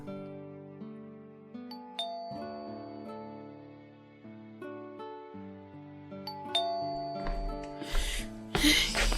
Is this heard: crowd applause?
no